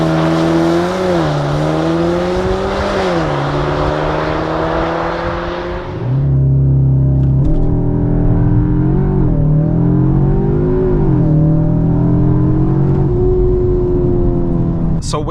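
A 2024 Cupra Formentor VZ 310 with an Akrapovic exhaust revs hard and accelerates through several gear changes, loud and close, with a steady rising drone between shifts.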